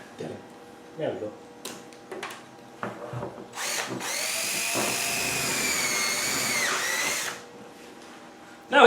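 Cordless drill boring out a cracked pipe, with a sustained loud whine lasting several seconds after scattered knocks and handling noises, then stopping abruptly.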